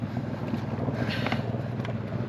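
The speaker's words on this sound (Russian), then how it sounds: "С помощью нового электростартера мотор завелся. Шепчет, бурчит, охлаждение есть, все есть." An outboard boat motor, just started with a new electric starter, idles with a steady low rumble under heavy wind buffeting on open water.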